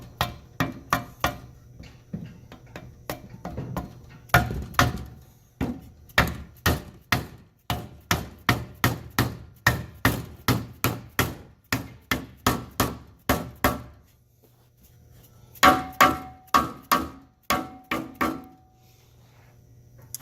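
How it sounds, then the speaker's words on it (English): A dead blow hammer drives a polyurethane subframe bushing into a BMW E36 subframe, producing a long series of sharp, close, evenly spaced thuds, with a short pause before a final run of strikes. "And just going to take a dead blow hammer and start driving this in."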